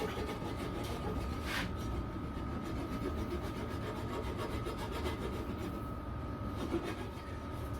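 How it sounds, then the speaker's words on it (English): A hand file worked on its edge against the lug of a 1920s Raleigh bicycle frame gives a continuous close scraping rasp with a faintly pulsing stroke rhythm and a thin steady hum beneath. "I'm just using the file on its edge, and I'm placing pressure up against the spigoty piece or the lug"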